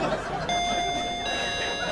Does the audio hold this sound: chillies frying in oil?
no